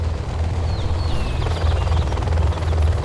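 Gatling Helix helicopter from the game Command & Conquer: Generals Zero Hour, a steady loud low rotor thrum holding throughout with faint high whines above, no voices.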